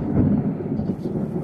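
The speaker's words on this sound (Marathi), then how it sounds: "भयानक विजा चमकत आहे बघा" Thunder rumbles during a pre-monsoon storm, a deep, continuous roll that fills the short stretch without any sharp crack.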